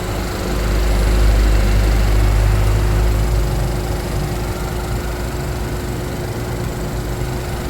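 A vehicle engine runs steadily nearby, a loud constant low drone with a faint whining hum on top, swelling slightly early on and then holding level with no voices.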